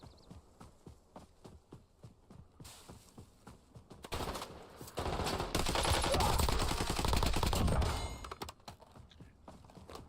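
Rapid bursts of gunfire in the video game Warzone, loud and dense, with a long sustained volley in the middle after quieter repeated shots.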